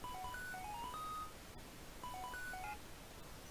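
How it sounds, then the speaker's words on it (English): A phone call rings in Pokémon Blaze Black 2, a chiptune ringtone of quick stepped beeps played twice in a row over a steady background hum. "A phone call at a time like this?"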